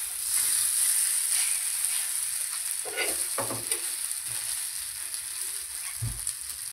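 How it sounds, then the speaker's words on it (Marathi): Food sautéing in oil in a pan while being stirred, a bright continuous sizzle with a few scraping stirs and clunks, close and steady, no one speaking. "वरून थोडं तेल टाकायचं आहे. परतून घ्यायचं चांगलं."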